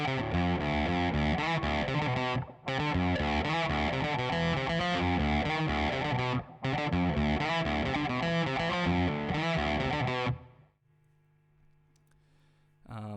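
Heavily distorted electric guitar plays the main riff of a rock song with two outro variations, loud and continuous with two brief breaks, then stopping into a low amp hum.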